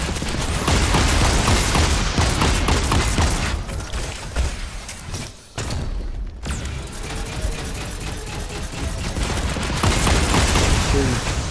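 Rapid gunfire and mechanical clatter from a Fortnite match fill the whole stretch, dense and loud with a short lull midway, while a voice talks faintly beneath.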